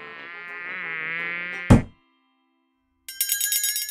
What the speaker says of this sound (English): That swatted the mosquito.